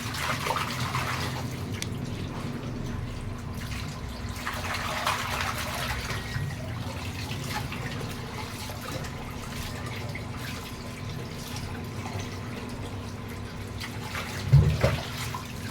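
Tap water runs into a sink while fish are washed, a continuous splashing stream with a low steady hum beneath it and a brief louder splash near the end.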